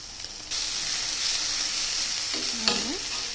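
Egg fry cooking on a tawa while being stirred to keep it from sticking, a steady close hissing sizzle that jumps louder after a moment, with a brief scrape of the spatula near the end and no talk.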